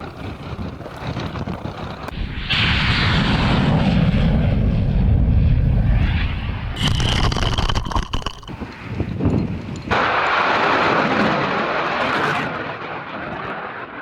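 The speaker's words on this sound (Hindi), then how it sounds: "Mi-28NM हेलीकॉप्टर की उड़ान और युद्ध अभ्यास के दौरान रॉकेट भी दागे गए" Mi-28NM attack helicopters fly during the Zapad 2025 military air exercise, with loud, close engine and rotor roar that surges and fades in waves, mixed with wind buffeting on the microphone.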